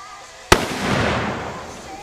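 A 30-06 rifle shot strikes a steel target outdoors in a backyard: one sharp, loud crack followed by a long, fading ring and rumble. No one speaks.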